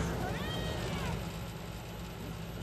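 A Norwegian forest cat in a bookstore gives a single drawn-out meow early on, fairly close, over a steady background hum with no talking.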